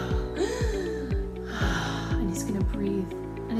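A voice imitates a duckling taking its first breath of real air, a series of rhythmic gasping snorts with rising and falling pitch, close and fairly loud, repeated several times.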